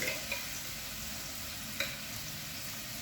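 Garlic and ginger being stirred in a hot pan, a steady sizzle running throughout with a couple of brief scraping clicks from the utensil, moderately close and without any talking.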